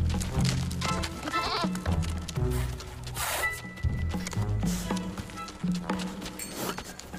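Wild goats in the Alpine mountains, with repeated bleats rising over a dense, busy mix of music and other sound, loud and continuous throughout.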